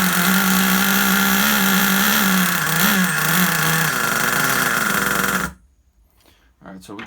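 A vintage Traxxas Rustler RC car's small nitro engine holds a low idle with a steady buzzing drone, loud and close, wavering slightly before cutting out suddenly into near quiet with a few faint knocks.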